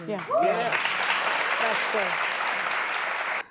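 A crowd breaks into dense, steady applause that holds at full strength for several seconds, with a voice briefly heard at the start.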